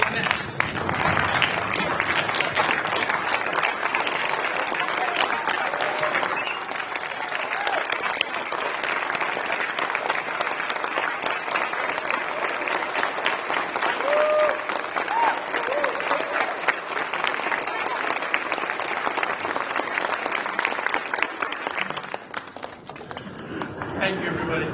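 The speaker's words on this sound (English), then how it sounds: "So if you can please get on your feet and give Howell a round of applause." An audience at a Navy master chief's retirement ceremony gives sustained, dense applause that carries on for over twenty seconds before beginning to thin out.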